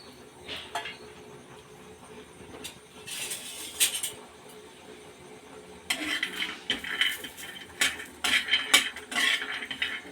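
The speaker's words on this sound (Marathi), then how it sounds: "ते टाकायचे आहे पॅनमध्ये त्याचबरोबर शेंगदाणे टाकायचे आहेत आणि मस्त असे भाजून घ्यायचे" Sliced val beans and peanuts being dry-roasted in a pan, giving quiet scraping and stirring with bursts of light clinks and rattles of utensil against metal, sparse at first and busier later, with no talk.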